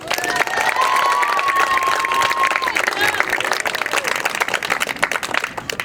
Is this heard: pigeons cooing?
no